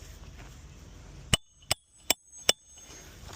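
A hammer drives a nail into asphalt roof shingles with four sharp, evenly spaced strikes after a quiet lead-in, each a crisp close metallic knock.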